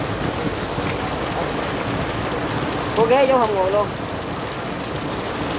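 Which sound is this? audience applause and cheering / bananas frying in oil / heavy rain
heavy rain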